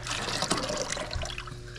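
Water and antifreeze drain from a vehicle in a workshop as a steady, close trickle and splatter of liquid, with workshop noise in the background.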